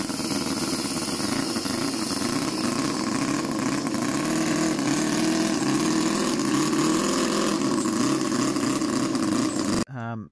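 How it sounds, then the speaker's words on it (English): A small Enjomor four-cylinder 36cc petrol model engine runs steadily and loudly with a continuous buzzing drone, then cuts off abruptly near the end. "This is the really interesting engine from Enjomor."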